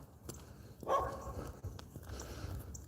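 A Labrador puppy barks once sharply at mid-distance outdoors near a residential backyard, followed by quieter rustling and faint yips against a low background hum.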